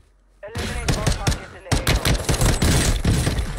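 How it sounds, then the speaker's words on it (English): Rapid automatic gunfire rattles in Warzone 2, a quiet pause giving way to loud clustered bursts of sharp shots, with a brief gap before another sustained volley. "I'm going to try to gun this guy"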